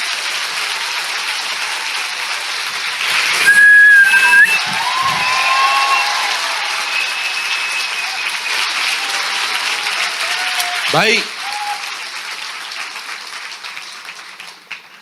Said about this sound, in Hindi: आइए प्रभु के लिए एक जोरदार ताली बजाएंगे।